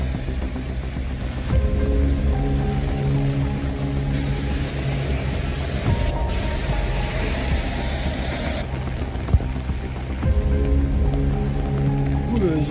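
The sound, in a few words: rain falling outdoors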